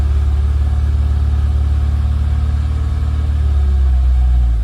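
A VW MK2 Golf GTI 16v engine runs steadily close by, a deep continuous rumble with a slight drop in revs near the end, no voices.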